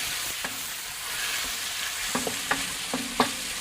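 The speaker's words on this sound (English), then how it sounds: "We're just going to drop our chicken in there and start stir frying this up. And you can hear that sizzle already." Chicken pieces sizzle in a wok being stir fried on a Big Green Egg, a steady frying hiss broken by several sharp scrapes and clacks of stirring toward the end, close and with no talk.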